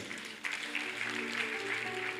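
Congregation applause at a church service, a soft, steady wash of many hands clapping at a distance, moderately quiet and continuing unbroken, with a faint hum underneath.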